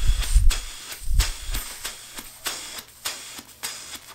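Air is blown through the mouth, as when playing trombone, in a run of breathy hissing puffs at a fairly regular pace, each briefly cut off, with low thumps near the start.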